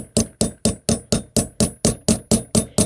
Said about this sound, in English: So I'm going to use a brass hammer, and I'm going to tap that down.